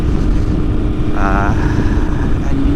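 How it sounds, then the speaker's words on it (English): A Honda RC30 replica motorcycle in Fred Merkel Rumi livery with an aftermarket exhaust pipe runs close and loud, a steady low throbbing exhaust note with a short rising whine in the middle. "you hit the old start button and you listen to the exhaust pipe, depending on what sort of fruity pipe you have"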